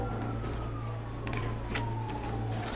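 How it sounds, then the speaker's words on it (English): A distant siren wails with a slowly falling tone beneath a steady low engine hum and faint clicks. "I hear sirens"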